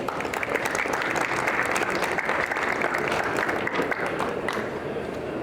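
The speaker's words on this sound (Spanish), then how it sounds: "Un fuerte aplauso para recibirlo" Audience applause welcoming an orthopedic surgeon to the stage at a talk, steady dense clapping from a sizable crowd lasting several seconds at moderate level, with no speech over it.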